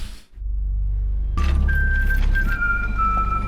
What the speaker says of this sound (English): That person's whistling that?